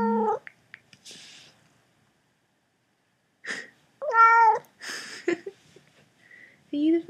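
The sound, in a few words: cat meowing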